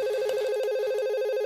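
A phone ringtone for an incoming call plays as a rapid warbling electronic trill, loud and steady throughout, with no talk over it.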